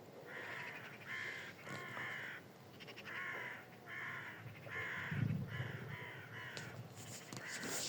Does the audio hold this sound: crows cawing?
yes